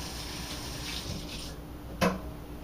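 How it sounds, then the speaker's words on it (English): Water runs from a kitchen tap as hands are rinsed, a soft, steady faucet stream with a brief louder splash near the end and no talking. "I'm going to rinse my hands quickly here."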